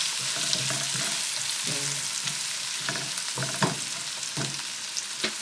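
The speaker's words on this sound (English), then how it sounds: "onions and my oil and let it fry, caramelize it." Onions frying in oil in a pan while cooking an egg stew, giving a steady close sizzle with crackling pops and some stirring or utensil clatter throughout.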